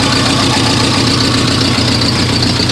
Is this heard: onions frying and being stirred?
no